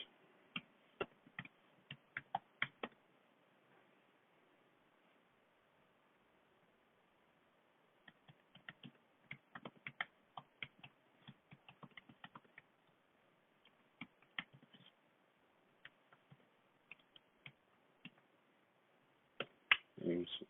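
Typing on a computer keyboard, heard as sharp, faint clicks in scattered bursts with quiet gaps between runs and a denser flurry near the end.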